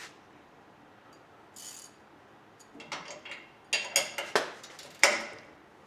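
A ratcheting wrench works the shock bolt on a 2022 Ford F250 Tremor during a Bilstein 5100 install, giving a run of quick metallic clicks and clanks that grow louder and denser toward the end, close by.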